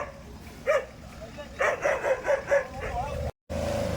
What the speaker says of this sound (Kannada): ಡಾಬರ್ಮನ್ ನಾಯಿ.